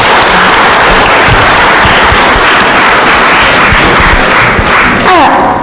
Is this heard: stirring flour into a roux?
no